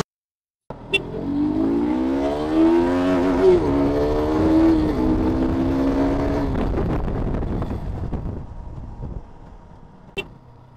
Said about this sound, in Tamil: ஃபுல்லாக டிராஃபிக்.